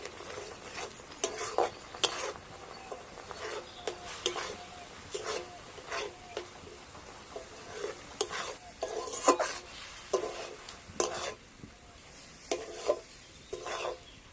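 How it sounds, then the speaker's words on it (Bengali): A bowl of semolina stirred by hand, little by little, into bottle gourd boiling in a pot: steady, rhythmic scraping and swishing strokes over a soft simmering hiss, close and fairly quiet. "এবার আমি এখানে এক বাটি সুজি নিয়েছি অল্প অল্প করে দেব আর এক হাতে করে এইভাবে মিশিয়ে নেবো"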